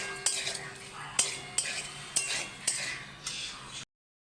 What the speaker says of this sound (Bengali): এবার আমি সব একসঙ্গে দিয়ে দিলাম, সয়াবিন, আলু, পেঁপে সব একসঙ্গে দিয়ে এবার সব একসঙ্গে কষিয়ে নেব একটু।